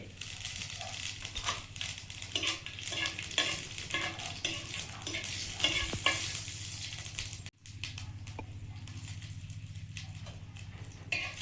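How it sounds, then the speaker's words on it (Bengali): Dry red chillies, whole cumin and crushed garlic frying in oil in a wok, steady faint sizzle under repeated rhythmic scraping stirs, close up, with a brief dropout midway and no speech. "কড়াইতে তেল দিয়েছি, দিয়ে দিচ্ছি শুকনো লঙ্কা,"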